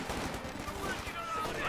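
MG34 machine gun fire in a strategy war game, a rapid rattling burst under ongoing battle noise with a voice talking over it.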